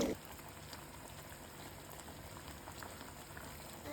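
A pot of elephant foot yam masala gravy simmers quietly after tamarind water is added, giving off a faint, continuous bubbling fizz with no talk.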